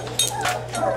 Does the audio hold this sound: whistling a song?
no